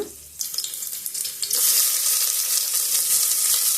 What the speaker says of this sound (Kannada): ಒಂದು ಪಾತ್ರೆಗೆ ಎಣ್ಣೆ ಹಾಕಿ ಈರುಳ್ಳಿ ಮತ್ತು ಟೊಮೆಟೊನ ಫ್ರೈ ಮಾಡ್ಕೊಳ್ಳೋಣ